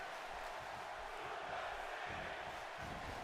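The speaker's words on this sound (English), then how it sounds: "Fans beginning to cheer Suplex City here in the alternate, or the artificial intelligence audience" A wrestling video game's artificial crowd cheers at a steady roar, dense and even with no breaks, fairly faint and lacking any close voices.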